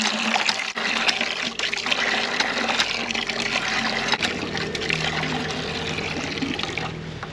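Water gushing from a freshly primed well pump, a steady, fairly loud splashing and trickling flow that continues unbroken throughout.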